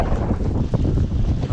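Strong wind in a sudden Canadian snowstorm, buffeting the microphone with low rumbling gusts that rise and fall continuously, close and loud, with no clear talk over it.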